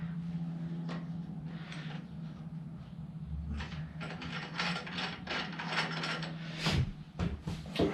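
Ratchet clicks while a new nut is snugged loosely onto the rear axle of an XS1B motorcycle during rear wheel and swing arm work, repeated bursts of close mechanical clicking over a steady low hum, with no talk.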